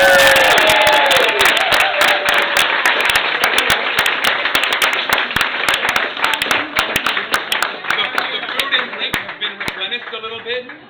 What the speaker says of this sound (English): One more round of applause for this amazing.